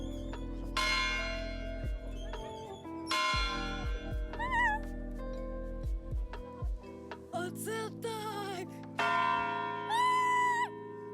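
The huge bell in the Lviv town hall tower tolls in slow, ringing strikes that hang and overlap above a low steady drone, loud and close, with lighter chimes between them.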